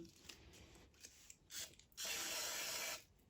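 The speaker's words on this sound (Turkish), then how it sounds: "Temizleme spreyinden biraz sıkıyorum." Cleaning spray hisses onto a Shimano thru-axle rear bike hub in two bursts, a short one and then a longer, loud sustained spray of about a second, with faint mechanical clicks before them and no talking.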